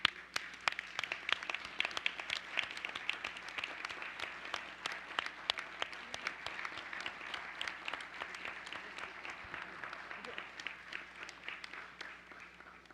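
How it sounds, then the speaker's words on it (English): Audience applause at a school board meeting, a dense, steady patter of many hands clapping that carries on for about thirteen seconds at moderate distance, fairly quiet overall. "Now let's give you a round of applause."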